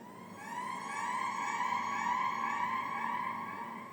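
Siren-like wailing sound effect borrowed from a TV series and used in a DJ track, a steady rising tone with bright layered harmonics sustained for several seconds, loud and alone.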